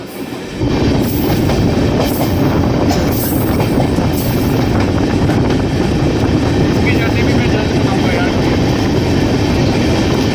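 The Champaran Humsafar train thunders past a moving Garib Rath third-AC coach, a loud, dense rush of rail noise with clattering wheels that bursts in abruptly and holds steady, with faint sharp squeals and a voice talking underneath.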